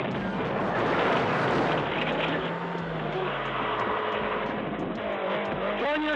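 A car engine runs loud and broadband throughout a police traffic stop at the end of a chase, with a low tone sliding down mid-clip and rapid pulsing near the end.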